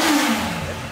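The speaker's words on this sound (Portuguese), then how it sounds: "ó o barulho da moto" A Honda CB1000 motorcycle on its original exhaust revs nearby, a loud, throaty engine roar rising and falling in pitch over about a second.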